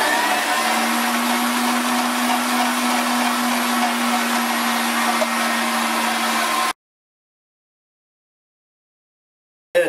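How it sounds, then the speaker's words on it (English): A meat grinder double-grinds pork through a fine plate, its motor giving a loud, steady hum with a whine that runs for several seconds and then cuts off abruptly to silence. "Now I'm doing the second grind with the fine because we want all the fibers broken down."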